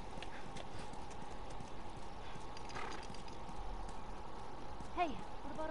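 A horse's hooves clip-clop at a steady pace in the video game The Last of Us. The hoofbeats are quiet and sit under game ambience and a speaking voice.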